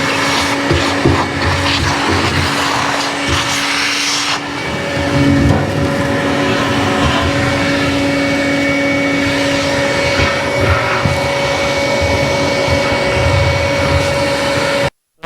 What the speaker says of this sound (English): we are going to go in and do one last clean out with the shop vac here